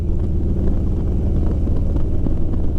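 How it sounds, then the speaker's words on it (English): Steady engine rumble from a motorcycle downshifting from 5th gear with rev-matching, shifting revs, continuous and fairly loud, with low-frequency drone throughout and no talking. "I'm in 5th gear, so I'm going to downshift, matching revs."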